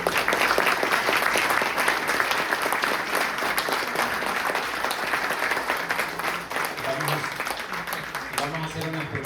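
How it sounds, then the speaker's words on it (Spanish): A large audience breaks into strong, sustained applause at a gathering marking 110 years of priesthood with Opus Dei, dense clapping that fades slightly near the end as a voice begins to speak. "los acogemos con un gran aplauso"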